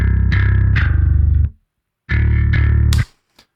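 Bass guitar run through a TSC Audio BOD Bass Overdrive plugin gives two loud, gritty, distorted phrases. Each is about a second long with rapid repeated notes, and the phrases are split by a short silence.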